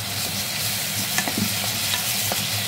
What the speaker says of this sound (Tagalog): Gisa natin yung mga ingredients.